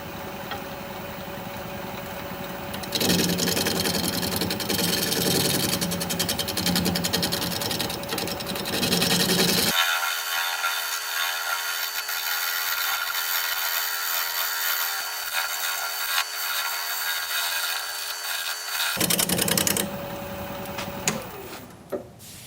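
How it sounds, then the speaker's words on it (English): Olive wood is shear scraped on a wood lathe, giving a continuous close whirring hum of the spinning lathe with a brighter, rougher scraping layer as the tool cuts, easing off briefly in the middle. "So I'm going to try shear scraping."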